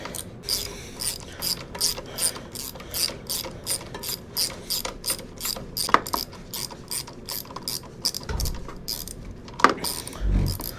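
A ratchet loosens the brake caliper bolts on a Honda Africa Twin motorcycle, giving a close, steady run of rapid clicking strokes in a regular back-and-forth rhythm, broken by a few metallic clanks and no talking.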